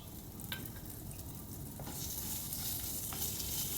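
Curry leaves and chili tossed and stirred in a hot frying pan, a steady close sizzle with a few light clicks from the utensil, no talking.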